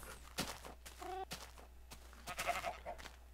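A single short sheep bleat rises briefly amid soft footsteps and quiet game ambience, fairly close but not loud.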